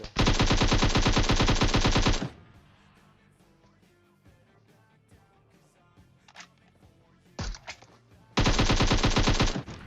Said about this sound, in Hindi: तो मैं नेड करता हूँ और फिर गोलियां चलाता हूँ